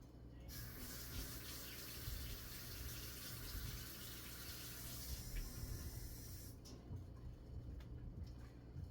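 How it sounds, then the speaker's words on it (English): Tap water running for blueberry scone dough, a steady close gush from the faucet lasting several seconds before cutting off, followed by quieter kitchen handling. "I might just use a little bit of water."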